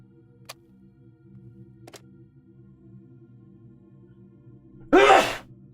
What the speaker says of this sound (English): It's amazing how often I sneeze.